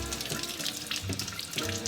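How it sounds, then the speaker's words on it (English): Water running through a trumpet during cleaning, a steady close splashing gush from a tap with a few bright spattering bursts, heard alone without talk. "this is where you can run some water as you're doing this"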